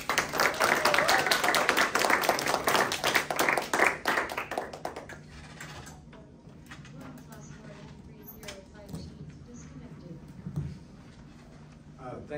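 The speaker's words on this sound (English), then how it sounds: "I wanna please give a round of applause to Richard Becker." An audience applauds a speaker at an Indianapolis book launch, with dense, steady clapping for about five seconds that then fades into quieter room noise with scattered taps and shuffling.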